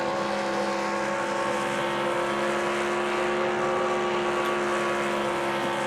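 A NASCAR stock car engine in a racing video game screams at high RPM around Darlington, a steady, droning, tonal roar with little change in pitch, loud and continuous with no voices.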